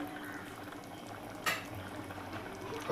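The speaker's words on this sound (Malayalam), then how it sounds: "ചിക്കൻ കറി അവിടെ തളിച്ചുകൊണ്ട് നിൽക്കണേ" A pot of chicken curry quietly bubbles and simmers in a soft, continuous burble, with one brief clink of metal partway through.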